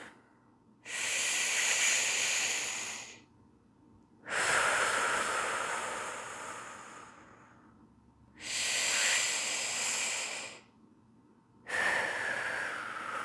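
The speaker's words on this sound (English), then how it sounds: "So again, you will breathe in." Deep breaths drawn in during a spine-bracing exercise, four long airy inhales and exhales in a slow, even rhythm, close and clear with short quiet gaps between them.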